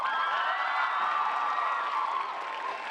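An audience at a youth fashion and design contest claps and cheers steadily, a dense, continuous wash of applause with whoops, moderately distant and without pause.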